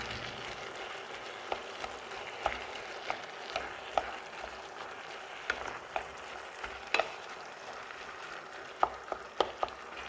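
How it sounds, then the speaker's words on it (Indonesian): A minced meat filling with boiled rice vermicelli is stirred in a pan, with a soft steady sizzle under repeated light scraping and tapping of the spatula, close and fairly quiet. "Kita aduk."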